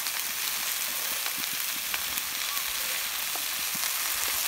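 Pollock fillets searing in a hot pan for a seafood stew, a steady, close sizzle of frying that continues evenly throughout with no talk.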